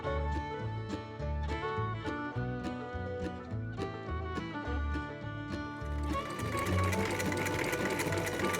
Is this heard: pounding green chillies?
no